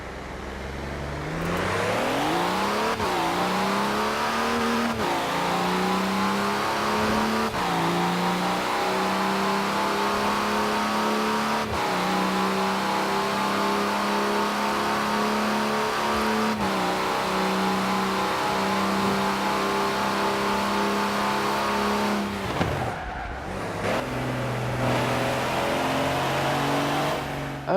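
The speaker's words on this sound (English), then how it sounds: "For some reason it's got this weird V8 noise" A deep V8-sounding engine of a Mini JWC in Forza Horizon 4 revs up repeatedly, its pitch rising with each gear before dropping at the shifts, loud and continuous with no talking.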